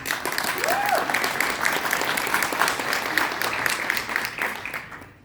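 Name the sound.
audience applause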